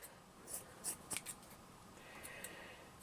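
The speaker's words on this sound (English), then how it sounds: "I'm going to cut it down." Scissors snipping through material for a handmade gnome's hat, a few quiet crisp cuts in quick succession close up against a soft background hiss.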